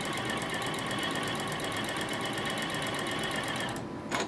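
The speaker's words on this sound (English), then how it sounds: "So I'm going to start sewing, and then I'll show you what I mean by chain piecing." A sewing machine chain-pieces quilt fabric while a border is added, running a fast, even stitching rattle up close for several seconds before slowing and stopping near the end.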